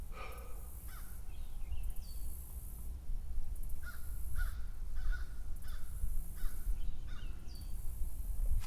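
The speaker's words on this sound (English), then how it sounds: "I hope you can hear these beautiful birds." Crows caw repeatedly in the distance over a steady low outdoor rumble, with several harsh calls spaced every second or so.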